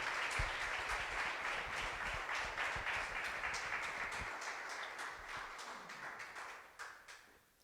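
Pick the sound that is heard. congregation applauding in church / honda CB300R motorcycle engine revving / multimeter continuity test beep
congregation applauding in church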